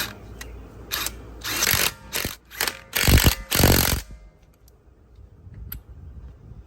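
Ratchet clicking in several bursts as wheel lug nuts are tightened in a diagonal pattern on a 2011 front-wheel-drive 3.6-litre Dodge Avenger, close up, with pauses between runs and no talk.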